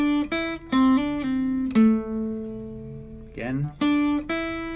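An electric guitar plays a riff as a short lesson demonstration: clear plucked notes in a stop-start phrase, one note left ringing, then a quick slide into a rapid run of attacks, close and alone with no talking.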